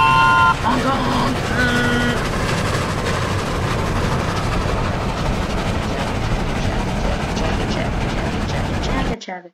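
A pink train in the video game Barry's Run gives a loud, steady rumble and rattle, with game sounds and voices heard throughout, then cuts off abruptly at the end.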